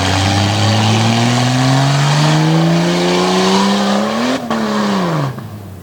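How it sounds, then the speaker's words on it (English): A red Jeep Grand Cherokee in a cheater stock class at Dragway 42 roars down the strip, its engine climbing steadily in pitch through a long loud pull, then a brief shift and a fading run at the end. "Alex Preston now out of Fredericktown, Ohio, rolling out in this beautiful red Grand Cherokee."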